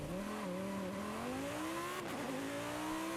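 A Lamborghini Huracan's V10 engine revs hard in Forza Horizon 5, its pitch climbing steadily through the gears with a brief dip at a gear change. The sound is loud, close and continuous, with no voices over it.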